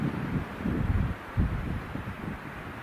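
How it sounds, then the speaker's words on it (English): Warm mountain wind gusts buffet the microphone in low, rumbling bursts that swell and fade over a few seconds, with no voices. "Gusts of warm wind kept blasting down off the mountains."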